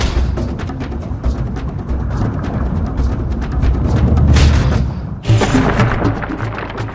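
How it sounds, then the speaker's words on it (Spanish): A dramatized supernova explosion, heard as a loud, continuous low rumbling roar with booming thuds that swells toward the middle, briefly drops, then bursts back in with a fresh blast. "La explosión de una supernova causa estragos en el planeta Tierra"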